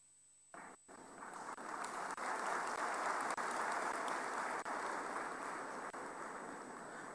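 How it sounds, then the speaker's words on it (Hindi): An audience applauds at the National Ayurveda Summit 2014 in Gandhinagar, Gujarat: after a sharp start, a broad steady wash of clapping fills the hall and carries on evenly without talk over it. "बहुत कम तालियां बजी।"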